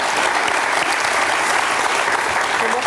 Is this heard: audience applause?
yes